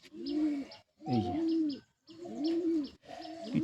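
A pigeon coos while being handled during treatment after a hawk attack, giving four close, throaty cooing calls separated by brief pauses, with no talk over them.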